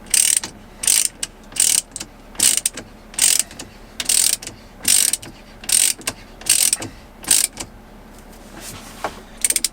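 A ratcheting wrench tightens a bolt on a Tesla Model X steering wheel in about a dozen quick clicking bursts with short pauses between them, close and distinct, with no talking.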